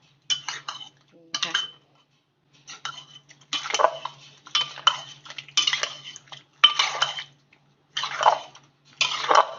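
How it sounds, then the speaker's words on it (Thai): A spoon clinks and scrapes against a bowl while Thai pork sausage salad (tam mu yo) is stirred to combine the seasonings, about nine short, close bursts of stirring separated by brief pauses. "คนให้เครื่องให้น้ำเข้ากันแบบนี้ค่ะ"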